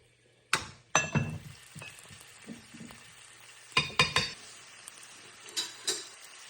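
Chicken drumsticks browning in a pan for rainbow-style drumsticks, with soft sizzling under sharp clinks and clatter of utensils, in scattered bursts between quieter stretches.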